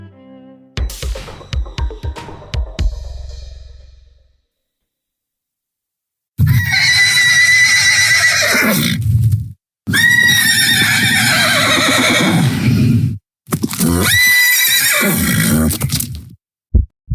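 A furious horse neighs in several loud, drawn-out whinnies separated by silent gaps, following a short burst of sharp knocks and clatter at the start.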